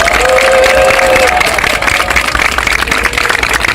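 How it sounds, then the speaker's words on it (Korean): Loud crowd applause at a Korean political rally, dense clapping mixed with cheering and a few whistles, continuous throughout. "여러분들께서 박수로 응원해 주시면"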